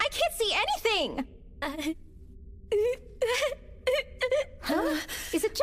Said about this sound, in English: does it sound like someone is crying?